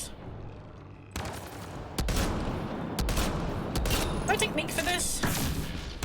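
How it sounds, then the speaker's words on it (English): Turrets in a video game firing rapid gunfire bursts, loud dense volleys that start abruptly and continue with sharp shots, while someone speaks briefly over them. "Turrets."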